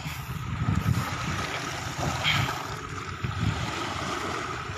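Sea waves washing onto the shore at Cabadbaran City, a steady broadband wash with swelling surges and wind noise, fairly close and continuous throughout.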